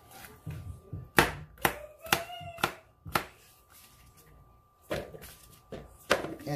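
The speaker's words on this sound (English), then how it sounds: "I want to cut off the ends" Knife chopping cucumber on a cutting board for kimchi, about ten sharp, close thuds in an uneven rhythm with a pause midway and a steady faint hum behind.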